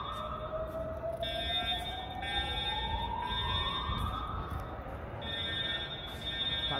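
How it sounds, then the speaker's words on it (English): An Edwards Integrity fire alarm during a test gives a slow rising whoop sweep over a steady high tone that pulses on and off, loud and sustained, with no voices heard. "Guess I'm too busy recording the fire alarm right now."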